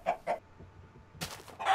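A chicken in the video game Minecraft gives two short clucks, then after a pause a few more clucks and a brighter squawk, close and alone.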